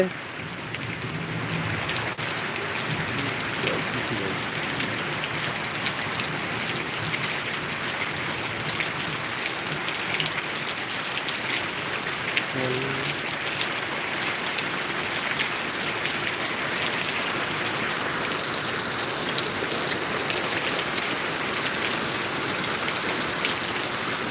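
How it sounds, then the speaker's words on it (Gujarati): Heavy monsoon rain pours steadily in Gujarat, a dense continuous hiss of drops on surfaces with faint indistinct voices now and then underneath. "વરસાદ ચાલુ છે બહુ વરસાદનો માહોલ ગરમ છે"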